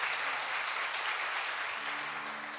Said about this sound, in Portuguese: Sentado, ofereça um aplauso ao Senhor.